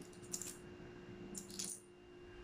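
Coins dropping during a count of a week's tips in the Philippines, with two separate clinking spills of small change, the second slightly louder, over a quiet room hum.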